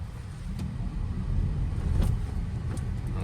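A VW 2025 ID.4 AWD Pro S electric car accelerates, with a steady low rumble of road and tire noise that swells slightly mid-clip inside the cabin, no engine note and no voices.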